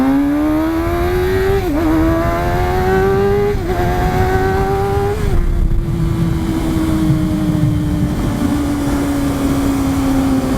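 A Kawasaki Ninja 636 sport bike being ridden, its engine droning loud and close with rising pitch as it accelerates through gears, dipping at each shift, then settling into a steady cruising note with wind rush.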